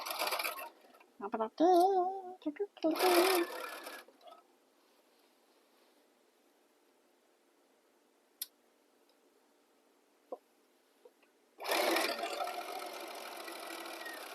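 A sewing machine stitches the center back seam of a pair of pants in two bursts of rapid whirring, separated by a quiet pause with a few faint clicks.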